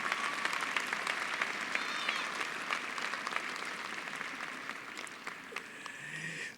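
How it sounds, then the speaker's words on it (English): A graduation crowd applauds in a large venue, a wash of many hands clapping at moderate distance that holds steady and then thins out toward the end. "Please help me give Mr. Castro again a round of applause."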